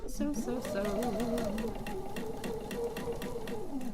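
A sewing machine runs steadily along a quilt seam, its rapid stitching pulse continuous and close for the whole stretch, with a low motor hum beneath and a voice talking over it.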